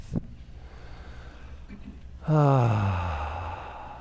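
One deep breath during a guided prayer: a faint inhale, then a loud, close, voiced sighing exhale that slowly fades over about a second and a half.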